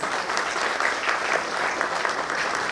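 A crowd applauds at the launch of a doctor-patient networking platform in India. The clapping is loud and continuous, with no voices over it.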